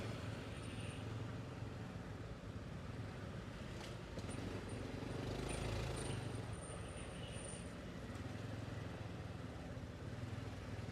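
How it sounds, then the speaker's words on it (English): Steady midday city traffic in Chiang Mai's Old City, Thailand, a continuous broadband rumble of cars and motorcycles with some passing engine swells, heard from a moving motorcycle. "here we are in traffic"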